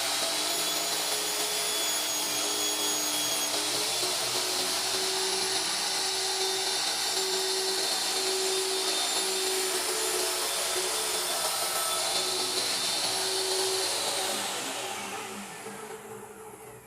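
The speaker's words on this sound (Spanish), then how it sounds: "estoy elevando el disco para que alcance a cortar toda la longitud, todo el grosor, perdón, del MDF" A circular saw blade, raised to cut through the full thickness of an MDF panel for a drawer piece. It gives a steady, loud, high whine with a grinding edge for about fourteen seconds, then winds down at the end.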